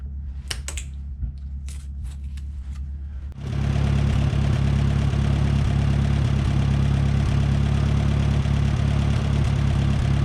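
A late-1960s Smyth Welding three-point snow blower's engine catches and runs, a loud, steady idling drone that takes over after a few light clicks and taps, continuing close and unbroken to the end.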